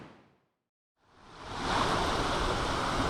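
The waterfall at Big Rock Falls in Belize gives a steady broadband rush of falling water that fades out briefly, then swells back in and holds loud and even.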